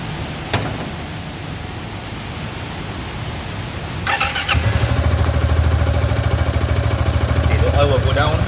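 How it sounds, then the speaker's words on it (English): A Yamaha Xmax scooter engine cranks and fires after a quiet stretch, then settles into a steady, close idle with a rapid even putter. "I will start the bike."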